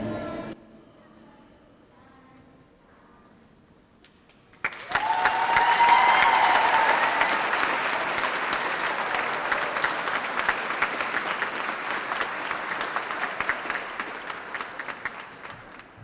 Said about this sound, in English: How about another round of applause for those kids?